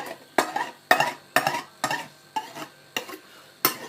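A knife trims the pastry edges of a steak and kidney pie base in eight crisp, evenly spaced scraping strokes about half a second apart, close up, with no voices.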